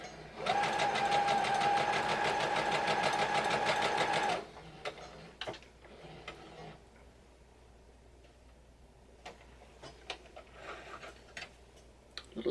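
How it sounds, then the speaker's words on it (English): For about four seconds a sewing machine fitted with a piecing foot runs a quarter-inch seam on quilt squares, a loud, steady, fast mechanical hum. Fabric handling and soft clicks follow at a lower level. "I am using my piecing foot on my machine,"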